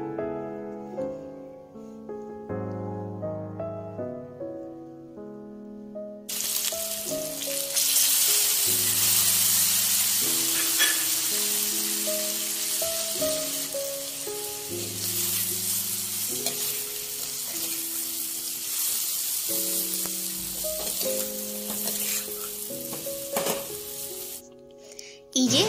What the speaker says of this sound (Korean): 소금 한 꼬집, 고추장, 고춧가루를 넣어주세요. 그것을 볶은 다음 잘 섞는다.